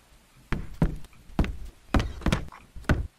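Door in the Roblox horror game The Mimic, a series of about eight hollow knocks and thunks in an uneven rhythm, close and fairly loud against a quiet background, with no talking.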